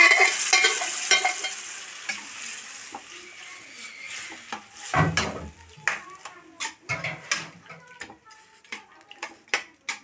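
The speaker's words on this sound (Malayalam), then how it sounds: "ഇതൊന്ന് തിളക്കട്ടെ കേട്ടോ." Chicken kurma curry with second-extract coconut milk heats in a pot toward a boil, giving a steady sizzle and bubbling hiss with clinks and stirring knocks from a spoon, close and fairly loud throughout.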